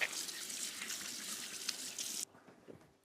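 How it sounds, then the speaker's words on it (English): Hands being washed under a running kitchen tap, a close steady hiss of flowing water that stops abruptly near the end, leaving a few faint drips. "just gonna wash my hands"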